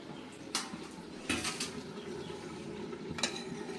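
Pulao, cooked rice in a cooking pot, being turned over with a utensil: a few brief scraping clinks at intervals, moderately close, over a quiet room background.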